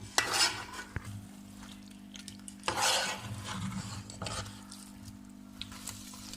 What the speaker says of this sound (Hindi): अब इस स्टेज पे हम अपनी तमाम खंडवियाँ इसमें ऐड कर देंगे और उसे 1 मिनट के लिए भून लेंगे।